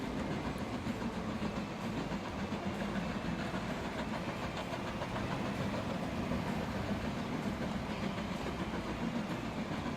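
A locomotive rolls along in the Transport Fever game, a steady rumbling run with faint rhythmic rail clatter, continuous and moderately quiet with no talk.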